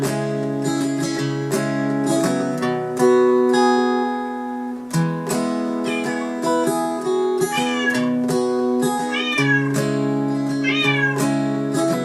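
A cat meows repeatedly over guitar playing during a song lesson, the drawn-out, rising and falling cries weaving in and out of the steady picked chords and sustained notes.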